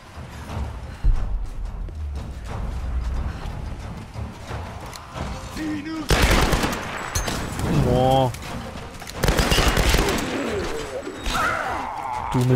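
Explosive arrows and gunfire in the video game Tomb Raider, loud bursts of shots and blasts, densest in the second half, with someone talking and exclaiming over them.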